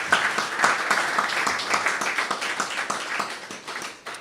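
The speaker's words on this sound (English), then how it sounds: "Give them a round of applause." Audience applause at a library celebration marking an anniversary of a book's publication, a steady patter of many hands clapping at moderate loudness, thinning toward the end with some individual claps standing out.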